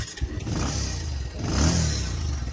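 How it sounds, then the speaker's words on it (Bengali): A Bajaj Pulsar DD ABS motorcycle engine starting in a used bike shop, with the starter catching into a close mid-pitched engine note that swells briefly as it revs. "বাইকটা একটু স্টার্ট দিয়ে দেখাই।"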